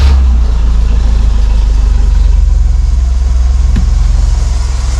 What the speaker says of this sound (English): My car actually has a loud noise when you start the engine.